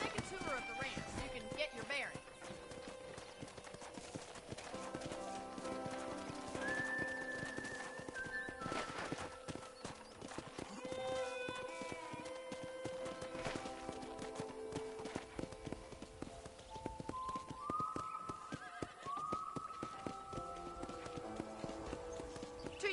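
Horses' hooves clip-clop steadily on ranch ground in the Western video game Red Dead Redemption, a continuous trotting rhythm, faint and close, beneath intermittent speech and an occasional whinny.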